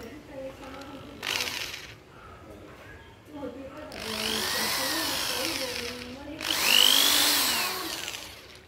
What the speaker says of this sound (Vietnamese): bây giờ bắt đầu là mình phải khoan một cái lỗ vị trí bên đây nữa là xong